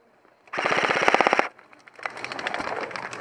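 Airsoft guns fire in a skirmish: one close, rapid full-auto burst of evenly spaced snapping shots lasting about a second, then a looser, fainter spray of shots from further away.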